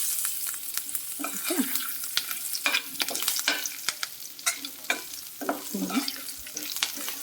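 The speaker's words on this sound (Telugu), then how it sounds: "తాలింపు అంతా బాగా ఫ్రై అయిన తర్వాత" Spiced tempering for a coriander and mint chutney fries in a pan while a spoon stirs it, giving a steady close sizzle broken by repeated scraping clicks and knocks of the utensil against the metal.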